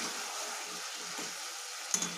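Chicken frying in a pan, a steady close sizzle with soft stirring scrapes and a brief clink near the end.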